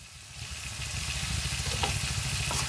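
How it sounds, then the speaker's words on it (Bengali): Vegetables sauté with spices in a hot pan for a spicy prawn and arbi curry, producing a close, continuous sizzle that builds slightly louder as they are stirred, with no voices. "সবজিগুলো অ্যাড করে ভালোভাবে মশলার সাথে কষিয়ে নেব"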